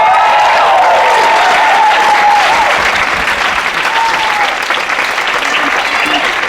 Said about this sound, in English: Could we also give a round of applause for our crack crew?